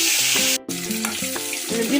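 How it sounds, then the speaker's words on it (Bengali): An egg fries in hot oil seasoned with salt and turmeric powder, giving a bright steady sizzle with a brief drop partway through, while soft music with a stepping melody plays underneath. "ডিমটি কিন্তু আমার ভাজা হয়ে গেছে"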